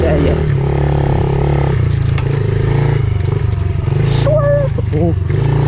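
A pit bike engine revs loudly and close by while being ridden through tall grass, its buzzing note rising and falling with throttle changes, with a voice shouting over it.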